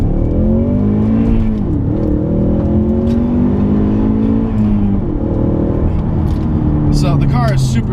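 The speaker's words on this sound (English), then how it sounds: "doing some timed acceleration runs in the 2015 Ford Mustang EcoBoost with a performance pack and a 6-speed manual" A 2015 Ford Mustang EcoBoost with performance pack and six-speed manual pulls hard through a timed 0-60 run, its engine note rising steadily and dropping briefly at gear changes, loud and close inside the cabin.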